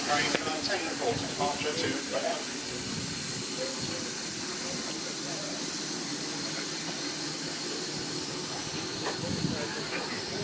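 A heritage steam locomotive at Tenterden Town station on the line to Bodiam in Kent gives off a loud, continuous hiss of steam, with a voice speaking over it near the start.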